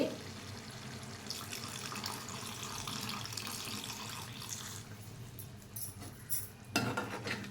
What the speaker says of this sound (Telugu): దీనికి తగిన కొంచెం వాటర్ వేయాలి ఏదైనా మొక్క ములిగే వరకు వేయాలి